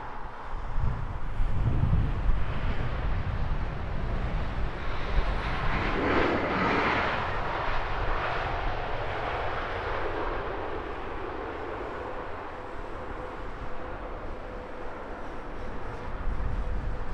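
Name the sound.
Oman Air Boeing 787 Dreamliner landing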